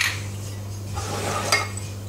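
Vanilla and rum are stirred into a pear tart filling in a bowl, giving soft scraping and a few light clinks of utensil on dish over a steady background hum.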